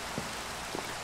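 Steady, quiet rain hiss in the Minecraft video game (Skyfactory 3 modpack), a soft even wash with a couple of faint low thumps and no talking.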